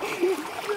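A child splashes through water while camping, a short close burst of sloshing and splatter with a voice heard over it.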